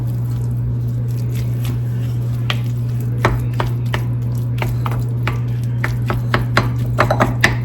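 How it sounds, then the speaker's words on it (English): A sausage and cream cheese mixture is stirred in a bowl, with repeated soft squishes and spoon clicks over a steady low electrical hum, growing busier near the end. "you just want to make sure all of the mixture is mixed together and it's all incorporated throughout the whole"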